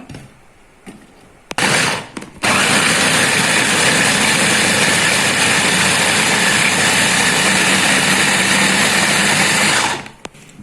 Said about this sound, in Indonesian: Ini saya menggunakan chopper.